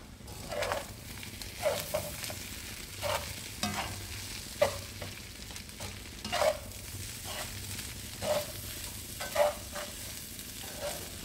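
Nasi lemak rice stir-fried in a pan over high heat with soup leaves: a soft, steady sizzle broken by regular scraping stirs of the spatula, each stroke a brief clack, heard close with no talking.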